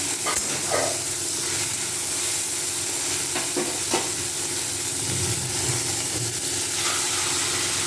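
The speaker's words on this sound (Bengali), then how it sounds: "চাল কুমড়োর তরকারিটা আমি এর মধ্যে দিয়ে দিই, দিয়ে সমস্তটা মেখে নিলে রেডি হয়ে যাবে।" Prawns and ash gourd curry hiss and sizzle steadily in a hot pan while being stirred and mixed, with occasional scraping knocks of the spoon close by.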